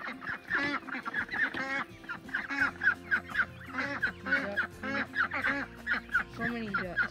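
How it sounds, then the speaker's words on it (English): Ducks and geese honk and quack in a busy, continuous chorus close by on a farmyard where chickens are also kept, with overlapping calls throughout and a low steady hum underneath. "So many ducks."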